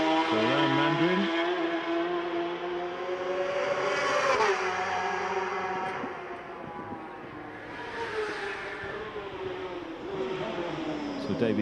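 Davey Todd's racing motorcycle at the Macau Motorcycle Grand Prix, dropping to first gear into Lisboa corner, then clicking into second on the climb to San Francisco; a loud, close engine note rises and falls with distinct pitch steps at each shift.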